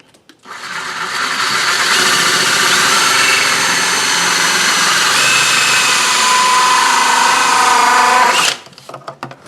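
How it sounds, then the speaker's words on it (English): A power drill whines loudly and continuously for about eight seconds, grinding a 2-inch hole through a golf cart dashboard, then cuts off abruptly into quiet. "I'll just drill a 2-inch hole right here in the dash"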